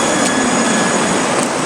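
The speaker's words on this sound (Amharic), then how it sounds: "አንድ ባቡር ነው" A train rolling past in Doha, Qatar, as a loud, steady, continuous rumble and rush of wheels on rails, close by throughout with no talking.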